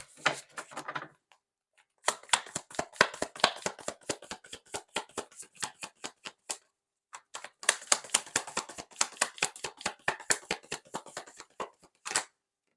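Tarot cards are shuffled by hand in quick bursts of crisp riffling clicks, close and fairly loud, in two main runs separated by a short pause, with no talking.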